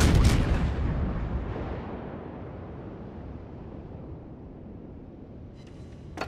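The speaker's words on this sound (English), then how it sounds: "Concentrate fire on that enemy warship." Heavy naval gun fire from the Moskva warship in World of Warships: a loud opening boom with a long rumbling decay fading over several seconds, and a faint crack near the end.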